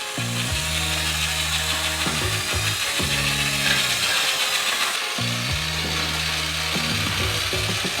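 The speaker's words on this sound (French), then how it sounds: "Et mélangez avec un batteur de chantier." A construction paddle mixer stirs heated milk with 12 kg of sugar in a giant pot on a gas burner, its motor droning and whirring in repeated bursts over a steady background roar.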